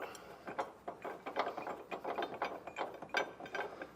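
Ratchet wrench loosely running nerf bar bracket bolts on a 2012 Chevrolet Silverado, a quick series of close, crisp clicking bursts throughout.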